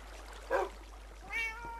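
A cat in the Minecraft video game gives two short meows, a brief one and then a rising one, heard faintly over a low steady background hum.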